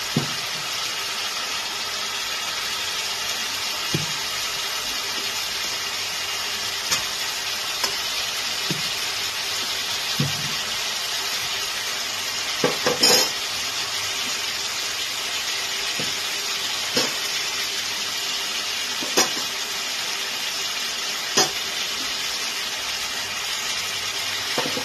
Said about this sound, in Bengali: আলুগুলোকে দিয়ে একটু কষিয়ে নেব।